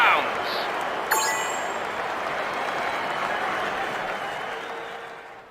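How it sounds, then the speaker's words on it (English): A stadium crowd in the fantasy game The Last Story erupts in loud, raucous cheering and applause for the heroes after a fight, a dense sustained roar that fades toward the end with a brief ringing chime near the start. "Even the panic in the stands has given way to raucous cheering for our heroes."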